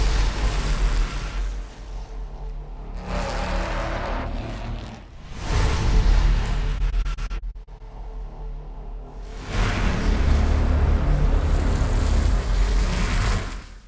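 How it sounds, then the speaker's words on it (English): Vintage race car engines roar loudly in a few long, close bursts separated by brief dips, with no talking. "recordings of old vintage race cars gone hybrid"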